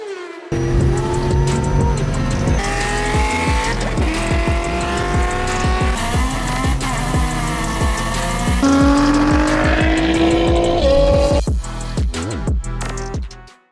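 A VW MK7 GTI is driven hard, its engine revving loudly and climbing through the gears with tire squeal and rushing road noise, sustained and close for over ten seconds before fading.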